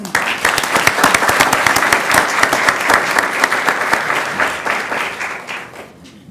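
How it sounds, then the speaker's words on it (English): Sustained audience applause fills a school board meeting room, dense, loud clapping from many hands that holds steady for several seconds before tapering off at the end. "One more round of applause."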